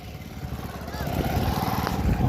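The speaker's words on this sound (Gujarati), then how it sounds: "તો પાછળ જોઈ શકો છો બધા બાઇકો લઈને છે તે નીકળી ગયા છે" Several motorbikes ride off together, their engines making a steady, fairly close drone for a couple of seconds with no pauses.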